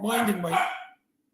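Two dogs barking in a quick, loud burst of about one second that ends abruptly, with a voice speaking over it.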